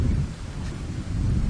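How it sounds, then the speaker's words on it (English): Continuous rain with a low rolling rumble of thunder, a steady broadband wash with no voices. "And still the rain came."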